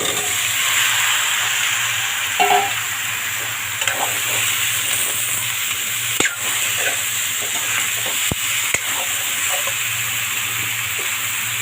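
Vegetables sautéing in oil in a pan for a Bengali mixed-vegetable dal, a steady close sizzle throughout with occasional stirring clicks and scrapes, no talking.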